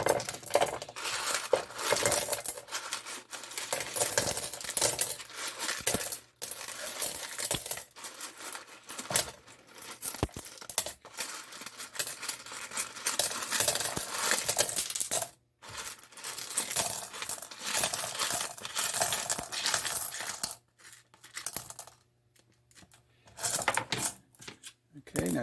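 Small tumbled rocks clatter and rattle as they are poured and handled back into a rock tumbler barrel, with bursts of gritty clinking separated by brief pauses, close by.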